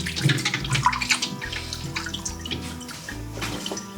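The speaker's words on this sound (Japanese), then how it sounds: "こういった感じで氷水作って そこで内臓とか洗います" Fish innards are rinsed by hand in a bowl of ice water, with close splashing, sloshing and light clinking that come in irregular bursts. No one talks.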